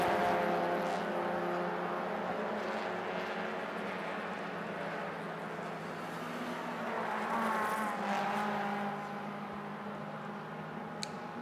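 Race cars in the Malaysia Championship Series MTC/SP2 class run on a circuit, with a continuous loud engine drone and rising, shifting engine notes as cars pass, and no talking.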